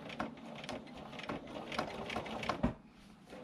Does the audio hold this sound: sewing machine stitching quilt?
yes